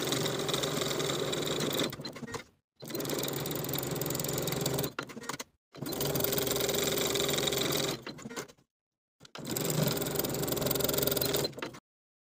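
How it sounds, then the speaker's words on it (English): Sewing machine stitching the side edges of a shirt cuff at a quarter-inch seam allowance, four steady runs of close mechanical whirring separated by short pauses. "sew both of the side edges from the bottom to the stay stitching that we sewed previously, using a 1/4 inch seam allowance"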